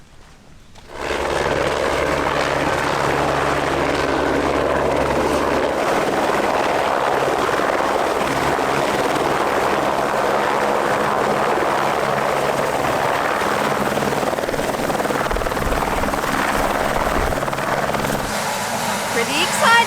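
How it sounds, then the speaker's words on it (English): A helicopter arrives at a Fiji anchorage to drop off kids, its loud continuous rotor and engine roar swelling in quickly and holding steady near the microphone for the whole stretch. "We're going to pick up the kids from helicopter."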